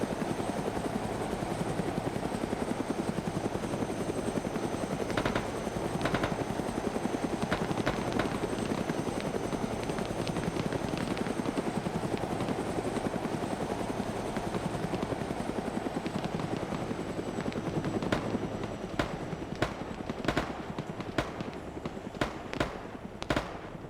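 Helicopter rotor noise from a military simulation game, a steady dense thrum throughout with sharp gunfire-like cracks bursting in near the end.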